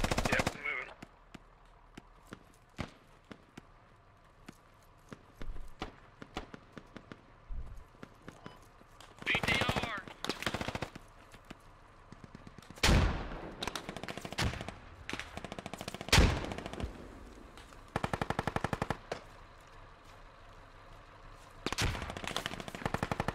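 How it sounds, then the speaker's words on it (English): Gunshots in a multiplayer video game firefight, coming as scattered bursts and single shots of varying loudness across the clip, mixed with footsteps and game noise, with players talking intermittently over the action. "Stop shooting."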